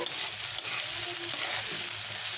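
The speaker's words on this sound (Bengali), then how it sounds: "সুন্দর করে পেঁয়াজটাকে ভেজে নেব" Chopped onions fry in a pan before fish is added, a close, continuous sizzling hiss with faint crackles all the way through and no talking.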